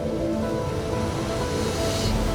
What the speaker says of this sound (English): he took me to a very special place, where the river meets the ocean